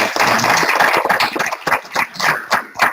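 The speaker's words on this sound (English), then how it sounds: "Maybe another global round of applause for our speaker" Audience applause for speakers at a manufacturing and growth summit: a close, loud burst of many hands clapping that thins into scattered, uneven claps toward the end, with no talking.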